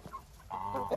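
Hens cluck in a short burst while pecking at yeast, a couple of close, soft clucks and calls following a brief quieter start.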